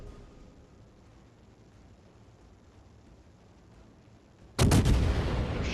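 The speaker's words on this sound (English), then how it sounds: "I might as well take some shots because I'm still protected by the smoke" Naval guns firing in World of Warships: a low, quiet rumble of the game world, then a sudden loud, heavy blast near the end that rolls on booming.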